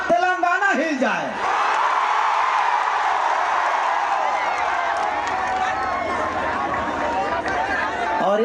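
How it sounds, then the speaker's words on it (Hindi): A large crowd at an election rally in Telangana roars and shouts in a continuous, dense wash of voices after a speaker's amplified call, loud and sustained throughout with cheering and whoops mixed in. "महिपाल चाचा के लिए कितना जोरदार ताली और हल्ला करके कि पूरा तेलंगाना हिल जाए"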